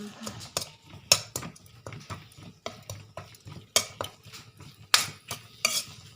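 Dried chillies and shallots stir-fried in a pan with a little oil, a utensil scraping and clanking against the metal in irregular strokes with sharp knocks, a faint sizzle underneath.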